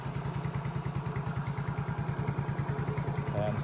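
A motorcycle engine, just fitted with a replacement piston, runs at a steady idle close by, its even low pulsing beat holding through the whole stretch, with a faint clatter near the end.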